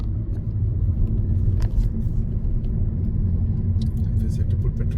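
A 2026 Toyota Camry rolls over road humps, giving a steady low in-cabin road rumble with a brief soft thump partway through, and no talk.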